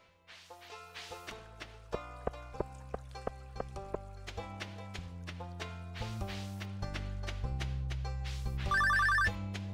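A telephone rings in the Stardew Valley farming game, a steady series of bright, chiming rings over a looping musical backdrop, growing slightly louder near the end.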